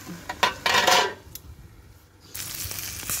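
Metal lid set back onto a cooking pot while barbecue cooks, giving a few close clinks and scrapes followed by a soft rattling hiss, with no talking.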